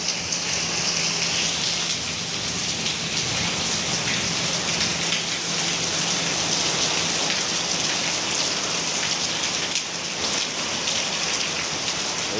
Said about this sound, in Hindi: ये देखो भाई, जबरदस्त बारिश है, देख लो।